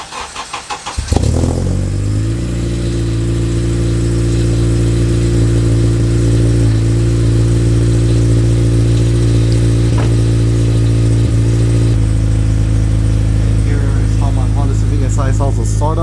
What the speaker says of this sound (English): Nice and deep exhaust.